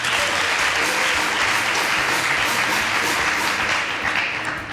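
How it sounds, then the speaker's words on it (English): A room of people gives Miss Doris a round of applause, dense loud clapping that holds steady for several seconds and tapers slightly at the end. "A round of applause for her,"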